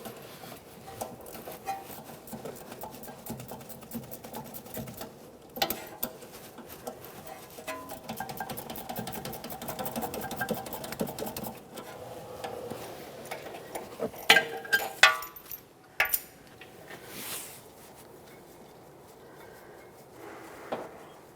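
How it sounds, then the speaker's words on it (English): An inner tie rod end on a 2017-2023 GMC Acadia being unthreaded by hand from the power steering rack, heard as faint ticking and rubbing metal clicks with scattered handling knocks in a quiet garage. "we can remove the inner tie rod end tool and fully remove it by hand"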